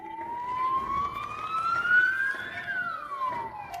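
Police siren wailing loud and steady with a rising then falling pitch sweep over road traffic noise, no voices.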